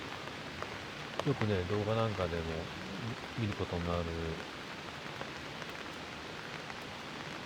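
Rain patters steadily on a camping tarp over a hammock during a solo day camp, a constant soft wash of drops heard under someone talking in Japanese for a few seconds.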